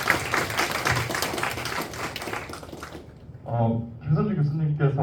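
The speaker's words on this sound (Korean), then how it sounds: "교수님께 다시 한번 뜨거운 박수 부탁드립니다." Audience applause for a professor at a conference, a dense patter of clapping filling the first three seconds before fading, followed by a voice speaking.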